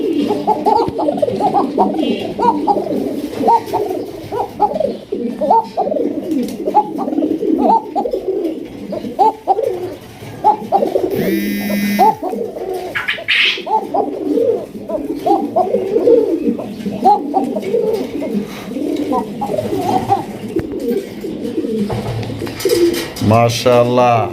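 Pigeons coo in repeated low, throaty calls, close and loud. People talk over and between the calls, and a brief whistle or chirp is heard in places.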